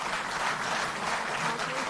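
Audience applause in an auditorium at a Delhi Jal Board event, a steady wash of clapping that fills the space, sustained throughout.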